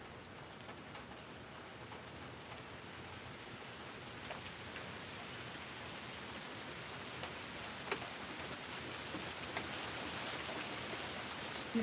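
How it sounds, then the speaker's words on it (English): Steady rain falls outdoors on a rural property with cows, a soft continuous hiss with occasional louder drops, fairly quiet and unbroken, with insect-like chirping woven through. "Here comes the rain"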